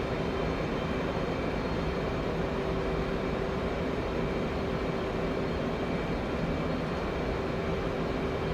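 An F/A-18 Hornet jet engine in a flight simulator gives a steady, loud, dense roar with a faint constant whine running through it, unbroken for the whole stretch and with no talking.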